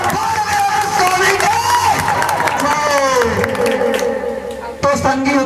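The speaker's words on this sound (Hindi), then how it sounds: "जोरदार ताली बजाए" An audience at a live rural comedy show claps and cheers loudly, a dense steady roar of applause and shouts mixed with a performer's voice and music throughout.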